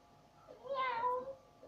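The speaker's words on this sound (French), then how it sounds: "Un petit chat." A single cat meow in Assassin's Creed III, clear and mid-loud, rising then falling over about half a second against a quiet background.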